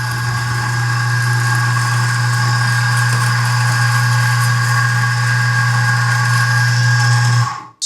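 A Profitec coffee station grinder runs steadily, grinding espresso beans into a portafilter, a loud continuous motor hum with a strong low drone that holds for about seven seconds, then cuts off abruptly.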